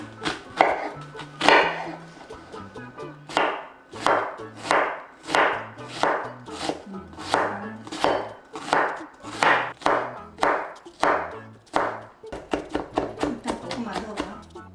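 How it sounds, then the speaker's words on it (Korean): A knife finely chopping scored onion on a cutting board for an egg dish, a long run of brisk, evenly spaced thuds that slows and speeds slightly, close and clear, with some low talk in between. "양파를 칼집을 넣어가지고 다져줘야 돼"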